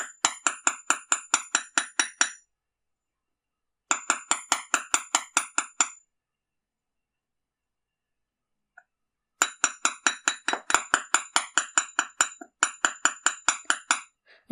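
A small hammer clinks in quick bursts on the wire frame of a wire-wrapped cyclist pendant, bright metallic taps in several runs broken by short silences, close and clear.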